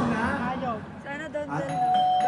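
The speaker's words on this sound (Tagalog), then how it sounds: "May nagdo-doorbell, ate Bambi." A doorbell chime sounds over ongoing talk in the room, its tones ringing out clearly near the end.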